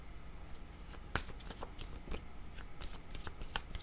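Tarot cards are shuffled by hand close by, a quiet, steady run of papery riffles broken by sharper flicks and taps.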